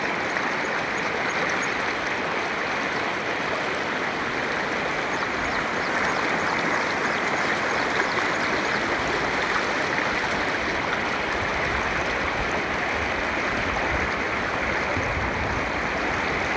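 Floodwater in a swollen river rushes past in a loud, steady roar, with broadband churning turbulence continuing unbroken from start to finish and no voices.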